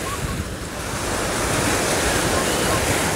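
Ocean waves breaking on Tamandaré beach in Pernambuco, Brazil, a constant loud roaring wash of surf mixed with heavy wind buffeting the microphone.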